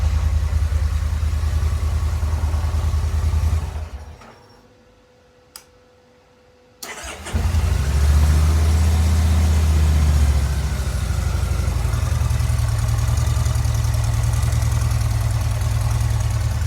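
Kawasaki Vulcan Nomad 1600 fuel-injected motorcycle engine running loud and steady, cutting out into near silence for a few seconds, then restarting and settling into a steady rumbling idle.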